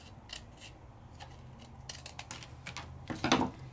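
Scissors snipping through paper during a Sizzix papercraft session, a series of faint crisp cuts building to a sharper, louder snip near the end, close and quiet with no talking.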